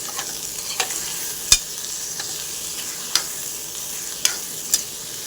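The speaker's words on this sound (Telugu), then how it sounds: "ఉల్లిపాయలు కూడా మగ్గిపోయినాయి, వేగిపోయినాయి" Onions and eggplant fry in a pan for a tomato-eggplant curry, a steady soft sizzle broken by several sharp scrapes and clacks of stirring, heard up close with no voices.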